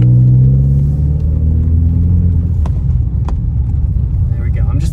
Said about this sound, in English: So as you guys can hear, I'm sure this car does indeed have an exhaust